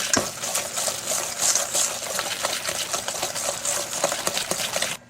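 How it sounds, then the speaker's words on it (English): Brown sugar mixture being whisked in a bowl to dissolve the sugar, a steady busy scraping and ticking of the whisk running close and continuous, ending abruptly near the end. "It's going to keep whisking over to dissolve the sugar."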